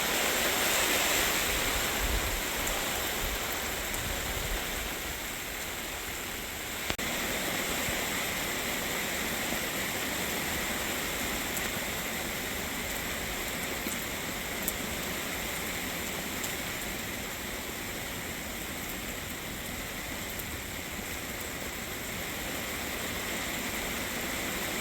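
Heavy rain pours down at a campsite, a dense, loud and unbroken hiss of water with wind behind it, steady throughout with a few faint knocks and no talk.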